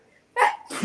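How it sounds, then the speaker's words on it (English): A woman gives a single sharp, close sneeze with a quick intake and a second burst right after, alone in a quiet room. "That's the way she sneezes."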